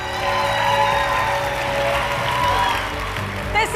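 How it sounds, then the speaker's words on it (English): Audience at a leadership conference talk breaks into loud, continuous applause and cheering, a dense crowd roar that holds throughout, with voices mixed in. "give her a big round of applause"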